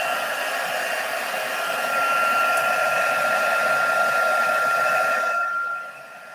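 A hair dryer blows steadily on a watercolour card, a loud constant whir that cuts off near the end.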